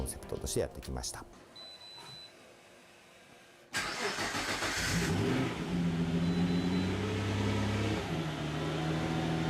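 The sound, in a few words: R35 GT-R engine in Toyota HiAce starting and running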